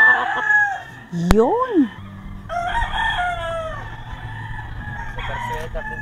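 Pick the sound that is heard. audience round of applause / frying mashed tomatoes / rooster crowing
rooster crowing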